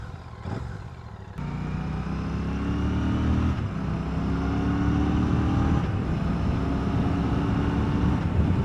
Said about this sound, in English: You get a lovely purring engine noise.